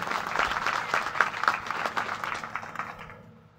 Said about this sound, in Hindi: तो एक बार तो चारों के स्वागत में सभी ताली बजा।